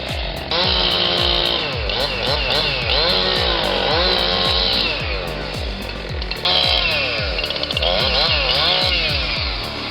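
A chainsaw runs loud and continuous while felling a burning cedar tree in forest, its engine revving and bogging repeatedly as the chain bites through the wood, with no talk over it.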